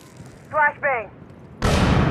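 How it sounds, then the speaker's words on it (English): A flashbang stun grenade goes off in the mobile shooter Rainbow Six Mobile. The burst is loud and close and comes after a short synthetic voice cue. "Flashbang."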